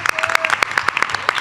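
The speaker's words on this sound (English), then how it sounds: "Let's have a round of applause for our AV people over there" Scattered hand claps from a workshop audience, a short burst of separate sharp slaps with uneven rhythm rather than a dense ovation, fairly close and moderately loud.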